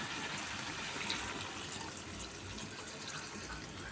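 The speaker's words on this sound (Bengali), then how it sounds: "এবার জল দিয়ে দেবো।" Water pours steadily into a pot of chicken curry in a kitchen, a soft continuous splashing and trickling at moderate distance with no voices, lasting a few seconds.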